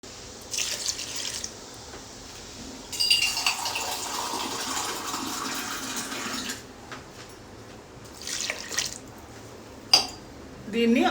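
Water being poured into a pressure cooker holding washed chana dal, toor dal and turmeric, with a few bursts of splashing and filling alongside metallic clinks and brief quiet gaps.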